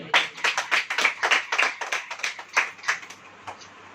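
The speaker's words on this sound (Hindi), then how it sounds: "ताली बजाइए।" A church congregation claps hands during a sermon, with a rapid, uneven run of sharp claps near and fairly loud, tapering off toward the end.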